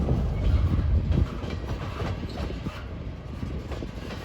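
A gondola-heavy freight train rumbles steadily past, its wheels clacking rhythmically over the rails, with a low heavy roar that eases slightly after the first second.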